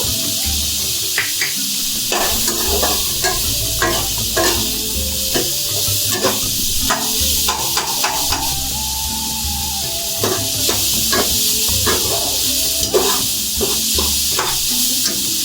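Ginger and garlic paste frying in hot oil for a mutton kola urundai kuzhambu, giving a steady loud sizzle with frequent short clicks and stirring scrapes throughout, with no talking.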